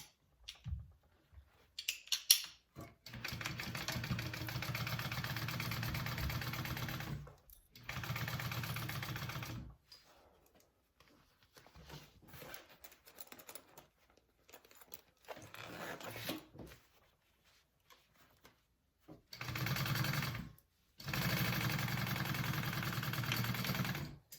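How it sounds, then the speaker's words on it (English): A home sewing machine runs in several bursts of steady stitching as fabric for a bucket bag is sewn at a quarter-inch seam allowance, with short pauses between runs and some quiet handling in the gaps. "I am sewing that on at a 1/4 inch seam allowance now"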